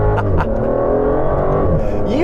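A 2019 Aston Martin DBS Superleggera accelerates hard, its big engine note climbing through loud rising revs and gear changes, with someone talking over it.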